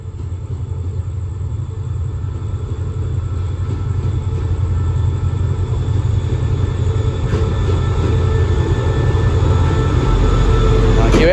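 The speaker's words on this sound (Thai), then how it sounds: "ขบวนรถด่วนที่ 84 จากสถานีตรัง ปลายทางสถานีกลางกรุงเทพอภิวัตร เข้าสู่ชานชลาที่ 1 ของสถานีสุราษฎร์ธานี" Express train No. 84 from Trang to Krung Thep Aphiwat pulling into platform 1 at Surat Thani station, a steady heavy low rumble of rolling wagons that holds near and loud throughout, swelling slightly toward the end.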